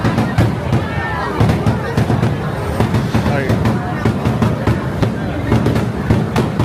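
Fireworks from the grand finale of Disneyland's Finding Nemo Submarine Voyage ride pop and crackle in a dense, rapid burst amid a noisy crowd and ride rumble, steady and loud throughout.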